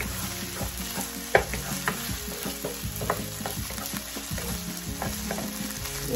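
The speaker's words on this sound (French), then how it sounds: "Gingembre et l'ail. Toujours avec un petit feu." Ginger and garlic frying over low heat in a pan for curried shrimp fried rice, with a steady sizzle under repeated stirring scrapes and taps of a utensil and no voices.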